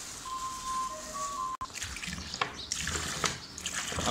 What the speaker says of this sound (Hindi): अब सूजी में पानी डालेंगे।